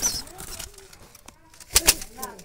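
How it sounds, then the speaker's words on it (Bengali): Jalali wild pigeon chicks in a basket make short soft calls and coos, close and faint, with a couple of brief louder bursts near the end. "এদেরকে বলা হয় টপ কোয়ালিটি জালালি বুনো কবুতরের বাচ্চা।"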